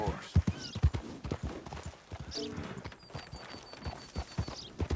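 Video game horse hooves clip-clopping in an uneven rhythm close by, with a brief whinny and some faint background sounds.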